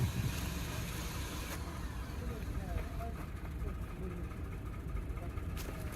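A 2009 Lexus GS350 engine cranks roughly after a new battery install, with a steady, dense, mechanical churn that holds at an even level without catching into a clean idle.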